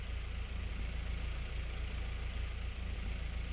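A worn-out Tomb GA3201 tractor in a farming game idles steadily, a continuous low, throbbing engine rumble with a faint rhythmic knock, unbroken and close throughout.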